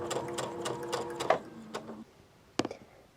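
A sewing machine stitches slowly and carefully along a marked line, running in a quiet, close mechanical whir for about two seconds, then stopping, followed by one more brief stitch.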